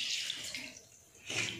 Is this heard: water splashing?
yes